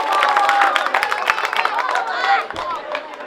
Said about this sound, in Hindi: एक मरतबा आप लोग भरपूर तालियों से इस्तकबाल कीजिए